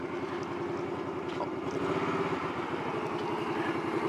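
A Honda Shadow 125 motorcycle engine idles with a rapid, steady putter while the idle-speed screw is adjusted. The pulsing grows slightly louder and quicker partway through.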